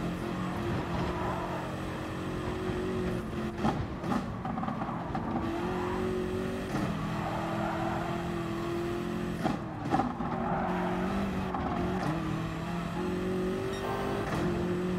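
BMW race cars in Gran Turismo Sport during a Manufacturers Cup race: a steady, loud engine drone runs throughout, with gear shifts and rises and falls in pitch as the cars accelerate and brake, and no talking.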